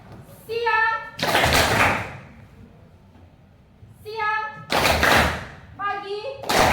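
Schoolchildren in a classroom game clap loudly together in two bursts, each following a teacher's spoken cue and nearby children's voices.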